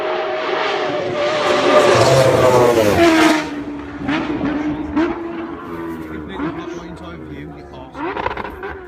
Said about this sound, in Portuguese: E essa é uma moto que faz 310 cavalos de potência.